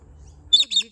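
A pet bird lets out two loud, shrill calls in quick succession, close by, in a backyard garden with a lawn, after a short quiet lead-in.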